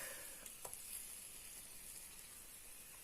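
Pears frying in caramel in a pan give a faint, steady sizzle and hiss close by, with a few small pops near the start and no talking.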